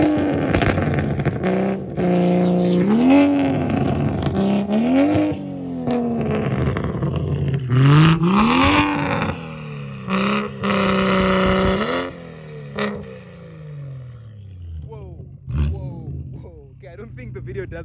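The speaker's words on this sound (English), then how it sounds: "in case you've never heard a BMW M240i with anti-lag, this will be your first time" A BMW M240i fitted with anti-lag roars through repeated revs, its engine note rising and falling loudly with sharp pops and crackles, filling the whole stretch up close.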